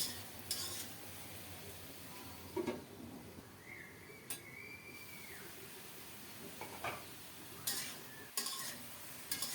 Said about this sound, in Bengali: এদিকে ফুলকপিটাকে ঢাকা দিয়ে সুন্দর মতো নেড়ে চেড়ে কষিয়ে নিচ্ছি